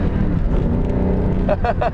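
A 2004 Ford Mustang Mach 1 pulls hard at full throttle from inside the cabin, a steady loud engine drone with a few brief rhythmic pulses near the end.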